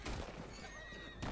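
A horse in Red Dead Redemption 2 gives a short, wavering whinny in the middle of a faint, busy game soundscape, with soft hoof-like thumps at the start and end.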